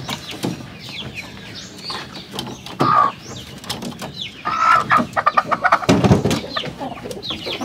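Hens on a farm kept in battery cages cluck and squawk in an uneven, overlapping chorus, loud and close, with occasional sharper calls.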